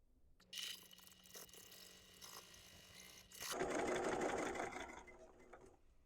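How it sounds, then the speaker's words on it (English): A sewing machine stitching the binding on a long double potholder at a quarter-inch seam, running in one continuous whirring burst of about a second and a half after a few quiet clicks of handling. "then we're going to sew it at a 1/4 inch seam allowance"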